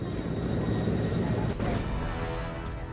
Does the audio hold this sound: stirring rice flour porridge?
no